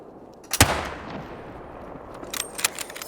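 A single sharp gunshot from a new weapon in theHunter: Call of the Wild, fired at long range at a target range, followed by a lingering rumbling echo and a few faint clicks near the end.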